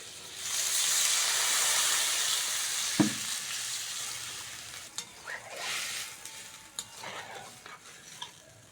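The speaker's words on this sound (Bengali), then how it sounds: "আলু আর পেঁপেটা ভালো করে ভেজে নিয়েছি এবার লবণ হলুদ আর লঙ্কার গুঁড়োটা দিয়ে দেবো" Potato and papaya frying in a pan with salt, turmeric and chilli powder, a strong hiss that fades into quieter sizzling punctuated by a few stirring knocks.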